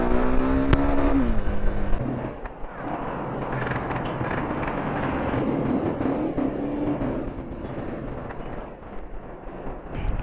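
A Jawa Yezdi Adventure motorcycle rides along, its engine note climbing and then dropping as gears shift, over steady road and wind rumble, with no talking.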